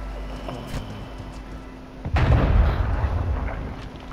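Gunfire in Call of Duty: Modern Warfare II Warzone: a low rumbling game soundscape breaks into a loud, booming shot or blast about halfway through, followed by a rumbling decay.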